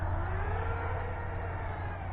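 Diatone GT M530 drone hovering, a steady dense motor whir that holds at an even, fairly loud level throughout with a slight rise in pitch, close by and without talk.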